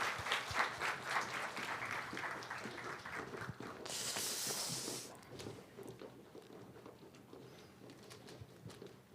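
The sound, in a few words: church congregation applause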